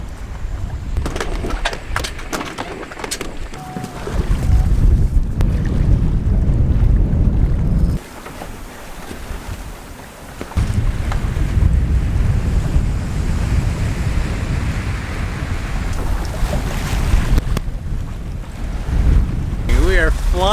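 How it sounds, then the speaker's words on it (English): A sailboat heads out of an anchorage off the island of Cabrera toward Mallorca, with heavy wind buffeting and rushing water and surf washing loudly around the hull, easing briefly before returning, with faint voices now and then. "we're going to sail out of the anchorage"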